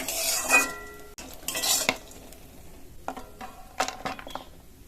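A utensil scrapes and clinks through dry fruits and raisins frying in ghee. Two brisk stirring bursts are followed by lighter metallic taps, over a faint sizzle.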